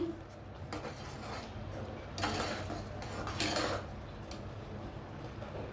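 Date palm jaggery going into a pot for millet payesh, with soft clinks and scrapes of a utensil against cookware, a brief rubbing burst midway, close by and fairly quiet throughout.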